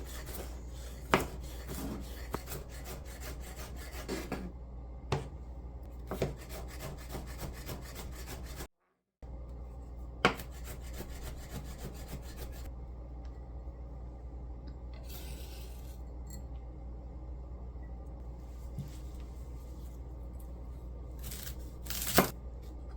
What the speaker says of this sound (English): mince the garlic until I get bored